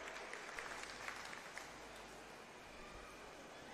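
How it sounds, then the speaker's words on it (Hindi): Crowd clapping at a political rally welcoming a party vice-president to the stage, a steady, fairly quiet wash of applause lasting throughout with no one speaking. "प्लीज जोरदार तालियों से स्वागत अनुराग ढांडा जी का।"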